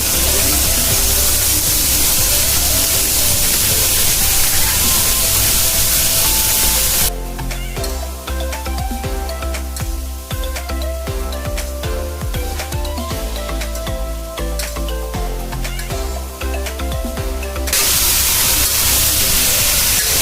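Papaya and potato bhaji with prawns frying in a pan, a loud, steady hiss and sizzle that briefly turns to crackling and spluttering in the middle, then settles back to an even hiss, with no voices.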